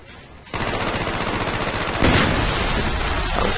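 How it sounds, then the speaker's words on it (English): Call of Duty Black Ops online gameplay delivers sustained loud automatic gunfire, starting abruptly and continuing with a heavier burst partway through, with no speech. "That was quite a big explosion."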